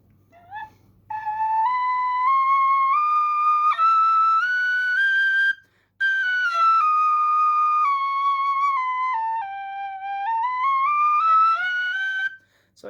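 An Elfsong Enchantress tin whistle plays a clear, bright melody, stepping through notes up and down, with two brief pauses for breath.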